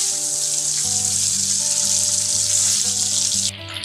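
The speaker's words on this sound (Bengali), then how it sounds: "ডিমগুলোকে আমি হালকা করে ভেজে নিয়েছি" Eggs frying in hot oil in a wok, a loud continuous sizzle with a steady low hum beneath it and no speech.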